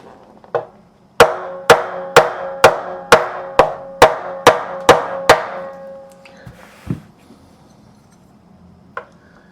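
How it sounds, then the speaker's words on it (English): A fretting hammer taps a fret into the neck of an EVH Striped Frankenstrat guitar, ten sharp evenly spaced ringing strikes up close and loud, then a couple of softer stray knocks. "I'm going to get a fretting hammer and I'm just going to tap this one in"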